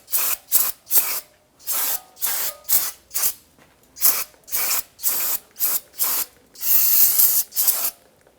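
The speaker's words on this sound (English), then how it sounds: "I'm going to go ahead and give this a cleaning with some spray solvent" Repeated short bursts of aerosol solvent spray cleaning the rear parking-brake shoes on a 2011-2021 Jeep Grand Cherokee, about a dozen close, loud hisses in an uneven rhythm, one longer sustained blast near the end, with no talk.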